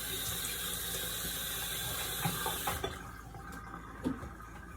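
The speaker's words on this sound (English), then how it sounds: "Rinse that off with cold water." Running tap water splashes steadily into a sink, then cuts off, leaving a few soft drips and small clatters.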